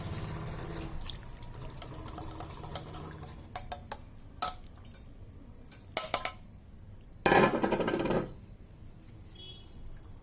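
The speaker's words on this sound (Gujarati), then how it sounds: "હવે આપણે તેને પાણી નીકળી જાય તે માટે ગરણીમાં આપણે નિતારી લઈશું." Water drains from washed grated potato in a kitchen strainer, with a soft, steady trickle and light clinks and rattles of the strainer and utensils. A louder splash of pouring water comes near the end.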